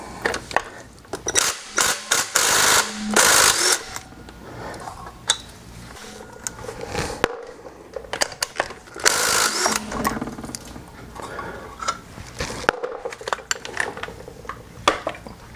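A 3/4-inch socket wrench works loose the wheel of a C5 Corvette in a garage, with busy metallic clicking, ratcheting and clanking bursts spread across the stretch, fairly close and loud with no talking.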